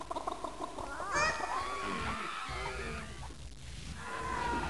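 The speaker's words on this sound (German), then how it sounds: "Und da sind unsere Freunde die Hühner wieder." Fowl in the 1997 PC strategy game Dungeon Keeper give squawking, honking calls in a quick run of bursts. A game soundtrack continues underneath, and the calls sound moderately loud and close.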